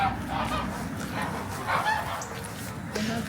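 Geese in a closed coop honk in a noisy flock, overlapping calls rising and falling steadily against a busy background.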